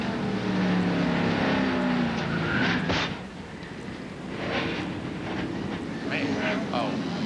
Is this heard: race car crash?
yes